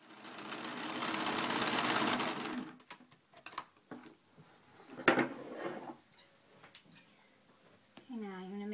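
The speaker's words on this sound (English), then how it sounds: "you're going to sew the two flannel pieces together" A sewing machine runs in a dense, rapid burst stitching two flannel pieces together, then stops; scattered clicks and handling noises follow, and a voice starts at the very end.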